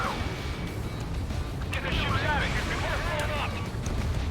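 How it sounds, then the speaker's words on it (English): Aircraft tankers blow up one after another in the combat flight game Ace Combat 7, producing a continuous low rumbling roar of explosions beneath someone talking. "I absolutely love the chain reaction explosions."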